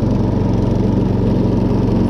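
A quad-style ride-on lawn mower engine runs steadily at close range, a loud, even, buzzing drone with no talking over it.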